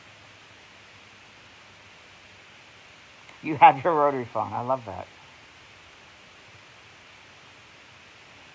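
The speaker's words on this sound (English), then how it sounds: "it's really a gardener next door with a blower" A gardener's leaf blower running next door gives a faint, steady, waterfall-like rushing hiss in the background throughout, with a short stretch of someone talking over it.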